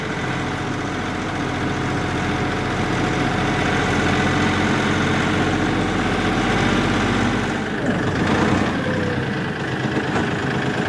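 Tractor engine running steadily at close range through tight turns in two-wheel drive, a dense low rumble with mechanical vibration that holds even throughout, a brief rattle near the end.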